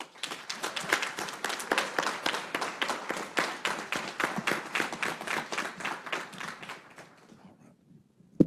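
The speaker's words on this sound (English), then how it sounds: "Let's give our panelists a round of applause." An audience at a violence prevention conference applauds its panelists: dense, sustained clapping of many hands, fairly close, holding steady for about seven seconds before tapering off.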